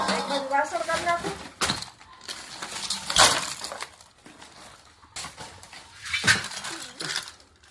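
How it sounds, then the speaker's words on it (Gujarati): Metal utensils and pots are pulled out and set aside in a household, giving several sharp clinks and clatters scattered among ongoing conversation. "એક બાજુ વાસણ કાઢી નાખું."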